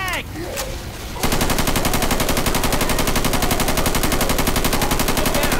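Sustained rapid automatic gunfire in a video game, aimed at a tank, a loud dense machine-gun stream that starts abruptly after a brief spoken shout and continues unbroken.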